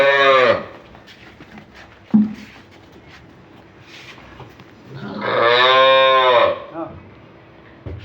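A dairy cow moos loudly and close by, two long drawn-out calls separated by a few seconds of quieter farmyard sound, with a brief knock in between; no talk over the calls.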